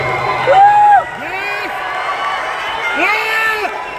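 A crowd of fans cheers for Chiranjeevi at the IIFA Awards 2024 ceremony, with loud rising whoops and whistle-like calls standing out in two bursts over a steady background roar.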